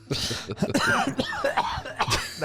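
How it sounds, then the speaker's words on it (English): A man coughs repeatedly on a podcast, harsh bursts close to the mic with throat-clearing mixed in, several uneven hacks over a couple of seconds. "tries to breathe and immediately coughs"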